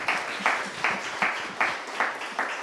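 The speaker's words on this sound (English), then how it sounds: "Round of applause for them." Audience claps for the winning team at a startup accelerator pitch event, coming as a short series of evenly spaced, moderately loud bursts.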